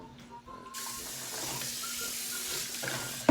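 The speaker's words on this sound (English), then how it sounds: "I like to put just a little bit of water in there so the bottom doesn't burn" Water poured from a tap into a baking tray that will hold pumpkin for roasting, a steady close rush lasting a few seconds after a brief quiet start.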